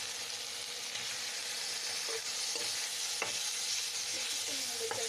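Chicken is added to a spice masala frying in a pan, giving a loud, steady sizzle with occasional stirring scrapes and small spatters throughout, no talk.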